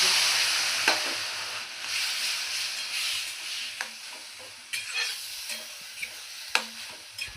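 Mustard seeds, bay leaf and grated pineapple fry together in a pan for chutney, a steady close sizzle broken by the scrape and knock of a stirring spoon at irregular intervals.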